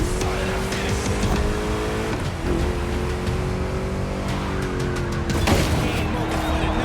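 Muscle car engine revving in The Crew Motorfest racing game, a steady loud engine roar with pitch dips and brief tire squeal, and a voice talking faintly over it.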